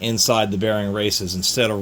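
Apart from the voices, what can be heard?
No everyday noises stand out.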